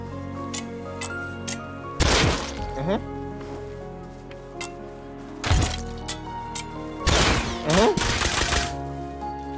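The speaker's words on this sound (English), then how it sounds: "Are they shooting each other?" Gunfire in the survival game Rust, with loud bursts of shots in a few clusters between sharp ticking clicks and quieter stretches, while a player talks.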